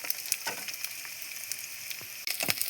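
Onions frying in a pan for a chilli cabbage (chilli kobi) dish, a steady close sizzle with faint scattered crackles and a brief dip near the end.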